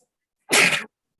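One sharp, loud human sneeze bursts out of silence and stops quickly.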